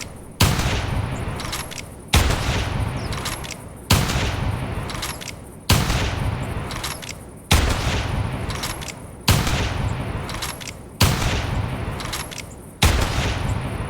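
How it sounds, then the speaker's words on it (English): Eight evenly spaced shots from a 7mm-08 Scout bolt action rifle in the hunting game theHunter Classic, each a loud sharp crack with a long decaying echo, about two seconds apart, with no talking. "Let's fire a few shots. This is what it sounds like."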